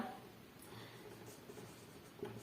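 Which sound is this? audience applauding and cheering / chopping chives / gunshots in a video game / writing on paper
writing on paper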